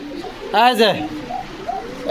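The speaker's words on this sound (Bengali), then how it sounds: "এই যে দেখেন, সিরাজি কবুতর।" A single Sirajee pigeon coo, close and clear, rising and falling over about half a second against quiet background noise.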